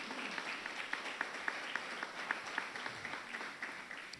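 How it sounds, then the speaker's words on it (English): Audience applause at a multi-door courthouse event, recognizing the managing director of the NDIC; moderate, fairly distant steady clapping with a few sharper individual claps, lasting about four seconds. "Please, a round of applause."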